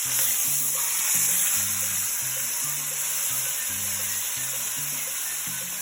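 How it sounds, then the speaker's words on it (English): Flipped meat sizzling in hot oil in a very hot pan while cooking ropa vieja, a loud continuous close frying hiss with a low repeating music beat underneath and no talk. "carefully flip it over without splashing it off."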